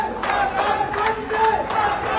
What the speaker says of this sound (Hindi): पूरे एयरपोर्ट पे तालियों की गड़गड़ाहट